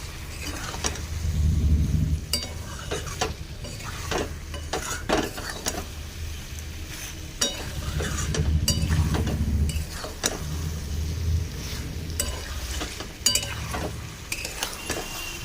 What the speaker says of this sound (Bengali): চিলি সোয়াবিনটা একটু সফট হওয়ার জন্য জলটা দেব। এবার দিয়ে দিলাম অল্প জল